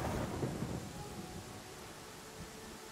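Rain and a low rolling rumble of thunder in the fantasy role-playing game Pathfinder: Kingmaker, a steady hiss of rainfall with a deep boom that fades, no voices.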